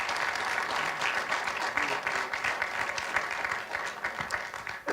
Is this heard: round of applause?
yes